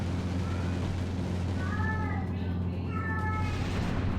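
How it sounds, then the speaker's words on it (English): A cat meows twice in the middle of the clip, clear rising-and-falling calls over a steady low engine-like hum from a space combat game. "Oh, my poor kitty, who's never been fed."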